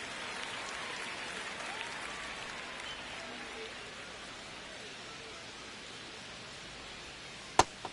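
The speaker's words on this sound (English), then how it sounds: "Pretty good crowd on tap here on a Sunday evening." Steady broad crowd applause and cheering noise from a Sunday evening baseball game between the Braves and Padres in MLB The Show 25, filling the whole stretch at an even level, with a sharp click near the end.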